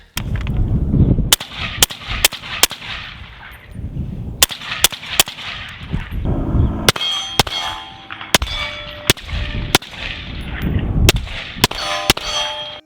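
A CMMG .308 rifle fires a rapid string of sharp shots, each followed by a ringing metallic clang from steel targets, around fifteen impacts spaced irregularly, close and loud, with no talking.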